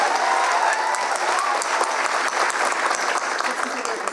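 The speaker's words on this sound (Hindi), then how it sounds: "एक बार जसवंत सिंह जी के लिए जोरदार तालियां बजाइए" An audience at a national seminar in Delhi applauds for Jaswant Singh, a dense, loud, continuous burst of clapping that holds evenly for about four seconds, with voices faintly mixed in.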